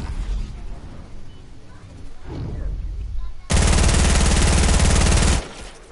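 Video game gunfire: after quieter scattered shots, a loud, dense burst of rapid automatic fire blasts for about two seconds and then cuts off, with no one speaking.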